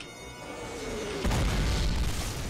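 A grenade explodes in the Call of Duty video game, a sudden deep boom that fills the low end and rumbles on to the end.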